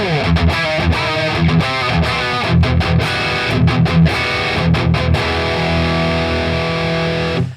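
A heavily distorted metal electric guitar tone plays loud chugging palm-muted riffs in tight rhythmic bursts, then rings out in a sustained chord before cutting off abruptly.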